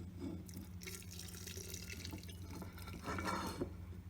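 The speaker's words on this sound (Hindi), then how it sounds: "हम इसमें कुछ तेल और डाल देते हैं।" Hot mustard oil is poured over mango pickle packed into a jar, making a soft, steady trickling stream of liquid with faint background hum, quiet and close.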